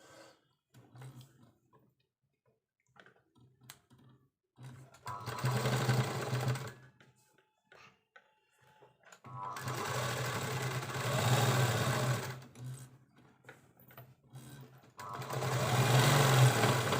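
Sewing machine stitching the shoulder seam of a baby frock, running in three steady bursts of several seconds each with short quiet pauses between, close and fairly loud with a low motor hum.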